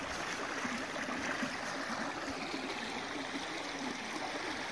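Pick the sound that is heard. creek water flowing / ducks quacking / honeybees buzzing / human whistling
creek water flowing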